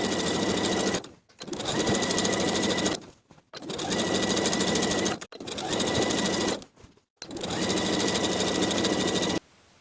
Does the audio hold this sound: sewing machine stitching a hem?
yes